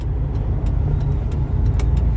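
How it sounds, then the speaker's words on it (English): A car drives along a road and passes close by, its low engine rumble and tyre hum holding steady and fairly loud throughout, with a few faint sharp ticks on top and no talking. "car's coming"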